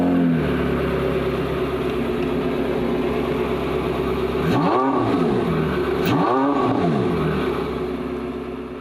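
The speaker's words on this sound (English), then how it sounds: "A turn of this dial fires up the regular engine" A Spyder sports car's V8 engine runs loud and close. It idles with a steady rumble, then gives two distinct revving swells that rise and fall.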